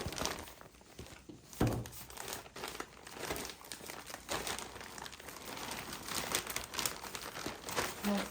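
Plastic sheeting meant for making a small greenhouse crinkles and rustles nearby while it is cut, in irregular crisp bursts with one sharper crackle early on.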